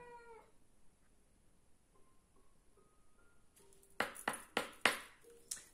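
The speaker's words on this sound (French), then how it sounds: "ma mimine qui commence à miauler dans tous les sens comme d'habitude dès que je commence la vidéo" A cat meows several times near the end, after a quiet stretch with faint electronic pings; the cries are short, close and fairly loud, coming in a quick series.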